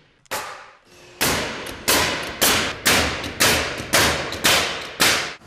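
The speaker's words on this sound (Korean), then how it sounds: "나무집을 짓는 이들에겐 망치와 못 박는 기계 타정기가 손에서 떠날 새가 없다." Hammer blows or nail-gun shots on timber during wooden house framing, about eight sharp, loud impacts at a fairly steady rhythm, each cutting off quickly, with no talk.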